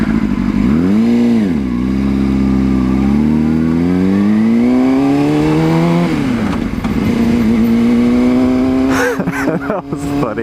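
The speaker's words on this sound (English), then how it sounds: "I went to accelerate and it just revved" Motorcycle engine revving with the clutch pulled in, loud and close, pitch rising and falling in several swells, then a steady high idle and a rattling burst near the end, with speech mixed in.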